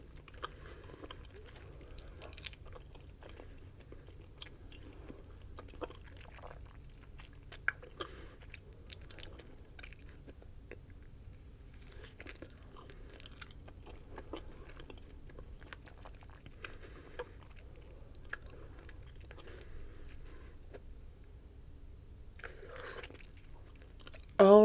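Bubble gum chewed close to the mic in a quiet room: soft, wet smacks and small clicks repeat irregularly over a long stretch, with a louder snap right at the end.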